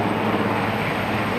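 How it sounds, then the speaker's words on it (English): A helicopter flying low and coming down to land outside Chequers gives a steady, dense rotor and engine roar, loud and unbroken over the short stretch with no speech. "You can see that helicopter there."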